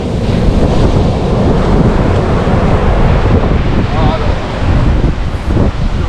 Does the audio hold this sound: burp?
no